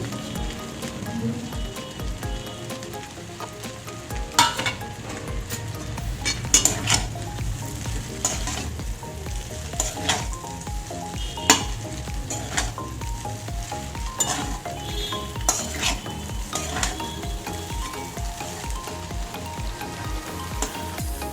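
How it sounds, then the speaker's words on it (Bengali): A chicken manchurian mixture sizzles and fries in a pan while being stirred, with continuous close frying hiss and repeated sharp scraping and clinking strokes throughout, no talking. "ভালো করে আমি মিশিয়ে নেব"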